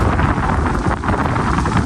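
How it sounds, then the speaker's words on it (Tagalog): Strong wind buffets the microphone at sea during a fishing trip, a dense, loud roar with rumbling gusts that persists without pause. "Malakas po ngayon ng hangin."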